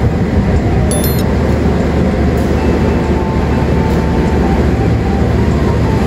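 A KA Majapahit train pulls into a station from the south, a loud steady rumble filling the whole stretch with a few brief metallic squeals and clinks high above it.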